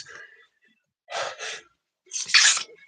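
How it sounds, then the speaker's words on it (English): Two quick sneezes in a row, close and sharp, followed by a louder, explosive third sneeze with breathy gasps around them. "I gotta sneeze."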